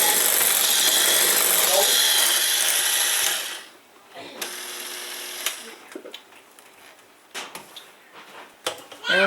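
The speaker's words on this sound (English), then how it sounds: "this time I am going to use the actual mixer." A KitchenAid electric stand mixer whirs loudly and steadily while beating homemade pancake batter, then cuts off abruptly, leaving quieter clinks and scraping bowl sounds.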